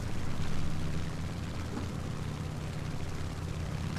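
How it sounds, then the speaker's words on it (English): Steady droning aircraft engine of a Ki-44 fighter in War Thunder, a continuous low hum that swells slightly at the start and then holds even and fairly loud with no talking. "Ki-44 is an amazing aircraft"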